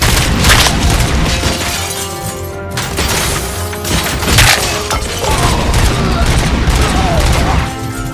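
Sustained heavy gunfire in the RoboCop: Rogue City video game, dense rapid shots with crashing impacts and booms, loud and continuous over about eight seconds, with shouted voices mixed in.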